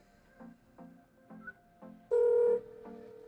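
Outgoing video call ringing on a phone: a short repeating electronic tone pattern, several soft pulses followed by one louder sustained chime, close and clear with no voices.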